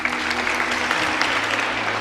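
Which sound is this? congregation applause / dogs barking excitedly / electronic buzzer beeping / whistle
congregation applause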